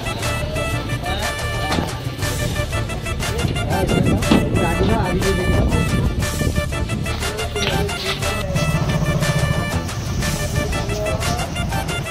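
A ferry boat leaving Kalna ferry ghat on the Hooghly river: a loud, steady engine drone with wind buffeting the microphone, and voices talking now and then.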